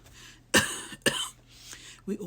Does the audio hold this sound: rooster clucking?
no